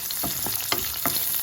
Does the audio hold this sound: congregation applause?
no